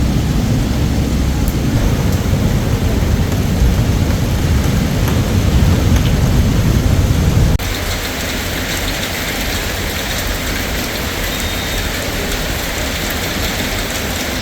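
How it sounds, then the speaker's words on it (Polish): Steady heavy rain pours during a beach walk in Alanya, a loud dense wash throughout that thins slightly partway through, with no voices. "w tym momencie zaczęło padać"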